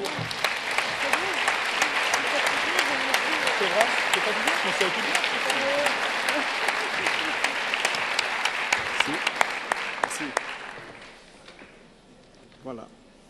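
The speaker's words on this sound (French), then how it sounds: "Je vous propose de l'applaudir" An audience at an award ceremony applauds a prize winner coming on stage, sustained clapping with sharp individual claps and murmuring voices beneath, fading away near the end.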